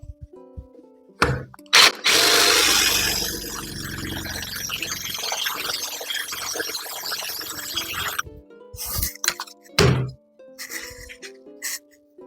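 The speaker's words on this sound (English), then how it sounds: "I'll drill this hole out to a perfect circle and then just plug it with a dowel" A power drill bores out an old screw hole in a rocking chair to a clean round hole, with a loud, steady whining burst lasting several seconds between brief taps and handling knocks.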